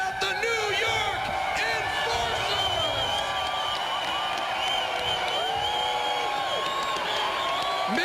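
A mixed crowd reaction fills a Las Vegas arena after the New York Enforcers win the Wild West Shootout championship, a steady roar of cheers and jeers with scattered whoops, while an announcer talks over it.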